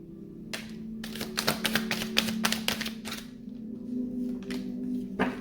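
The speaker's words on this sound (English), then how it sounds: "This is the last shuffle." Tarot cards are shuffled by hand in quick riffling bursts, a run of crisp flicks and taps close to the microphone, with pauses between bursts and a faint steady hum underneath.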